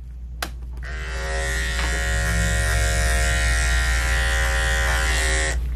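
Electric dog grooming clippers fitted with a 7 blade buzzing steadily and loudly up close, a brief click at the start before the motor hum settles in.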